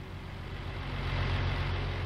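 Truck engine in Farming Simulator 19, a steady low rumble that builds slightly and holds, heard alone with no talk.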